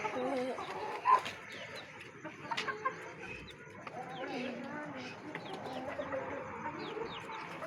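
A pet hen clucks softly among other birds kept outdoors with pigeons and rabbits, brief calls scattered over a steady background of bird chatter and faint distant voices.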